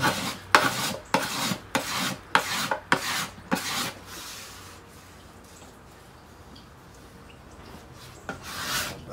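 Hand scraping and sanding on the wooden body of a Trigger 2 guitar: about eight rhythmic rasping strokes close up, then a quiet pause before one more stroke at the end.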